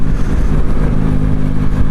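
Yamaha MT-09 SP motorcycle engine and exhaust while riding in UK traffic, a loud steady mid-pitched drone with slight throttle variations and no talking.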